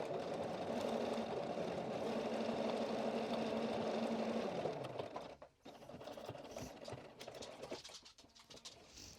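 A sewing machine stitches a faux welt pocket on a vest, running in a steady, even hum for nearly five seconds before stopping, followed by quiet fabric handling and small clicks.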